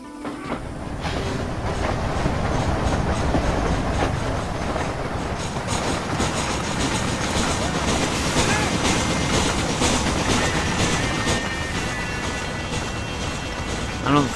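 Train rolling along rails in the Western video game Red Dead Redemption, a steady dense rumble with rhythmic clatter and faint metallic squeal, loud and continuous throughout with no talking.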